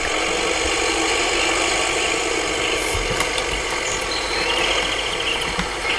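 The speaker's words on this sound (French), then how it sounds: "Beau bruit ce tracteur, un beau bruit." A vintage tractor engine idles in the Farming Simulator 2015 video game, a steady close drone with faint rattles and a brief high beep partway through, with no talking.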